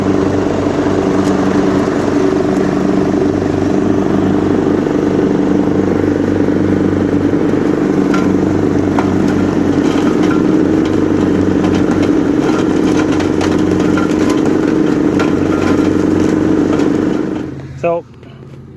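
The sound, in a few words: lawn mower engine running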